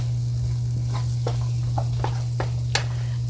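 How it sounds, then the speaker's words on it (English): Chopped onion and shallot frying in a pan while being stirred, a steady close sizzle broken by several scraping strokes of the spoon, with a constant low hum from the stove underneath. "we're just gonna mix the onion and the shallot up, like I said, for approximately 4 to 5 minutes"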